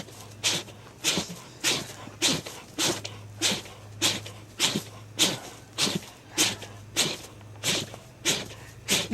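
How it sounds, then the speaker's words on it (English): A bear cub at the San Francisco Zoo sneezes again and again, about fifteen sharp, close, snorting bursts in a steady rhythm, each a fraction of a second apart, over a low constant hum. "There's a bear cub that apparently just can't stop sneezing."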